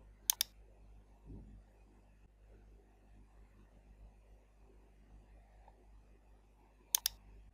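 A computer mouse double-clicks sharply while installing KMPlayer on Windows, then a long stretch of faint room hiss follows before another crisp double click at the end.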